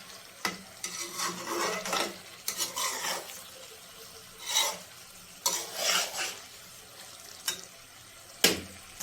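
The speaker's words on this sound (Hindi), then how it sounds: "जब तक ये घी छोड़ देंगे और ये मिक्स हो जाएंगे अंदर तब तक हम इसको भूनते रहते हैं।" Potato, peas and turnip being stirred and sautéed in ghee in a pan make repeated scraping stir strokes over a continuous sizzle, with sharp utensil knocks against the pan between bursts.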